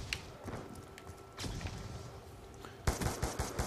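Rapid gunfire bursts in the video game Black Ops 2, with scattered shots early on and a louder, denser volley near the end over a busy game soundscape.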